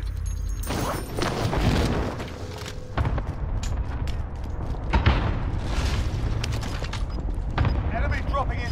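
A grenade goes off in Call of Duty Cold War Warzone, heavy booming blasts and rumbling gunfire in a busy battle mix, with talk over the top.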